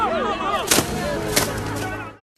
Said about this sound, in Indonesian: Ia segera menyuruh anak buahnya untuk menembak Ip.